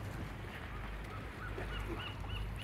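Seagulls call at the shoreline of Mission Bay, California, brief high cries rising several times over a steady roar of waves breaking against rocks and wind.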